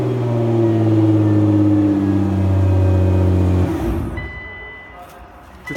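A 2009 Nissan GT-R engine runs and revs loudly with a strong, steady droning tone for several seconds, then drops off abruptly to quieter background.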